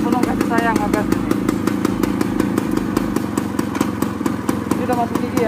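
Antique Yamaha 80 motorcycle engine running steadily with a rapid rattling beat, close and loud, while people talk over it.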